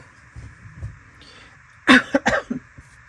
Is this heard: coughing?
yes